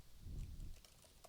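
Typing on a computer keyboard while editing a Blogger website's code, heard as a faint, short run of soft key clicks with a low thump at the start.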